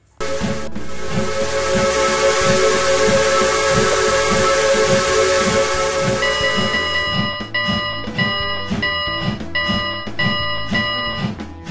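A steam locomotive whistle in a steam train simulator game gives one long, loud, sustained hissing blast, followed by a series of shorter rhythmic toots as steam and chuffing continue underneath.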